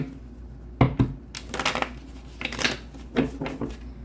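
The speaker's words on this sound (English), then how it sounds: "One more shuffle." Tarot cards are shuffled close up in a few quick bursts of riffling and snapping, separated by brief pauses, with no talk over them.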